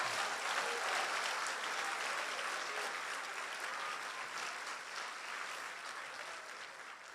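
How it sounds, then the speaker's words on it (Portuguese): Congregation at a spiritual warfare church conference applauding together, a dense, sustained roar of clapping hands that gradually thins over about seven seconds. "Aplauda ao Senhor"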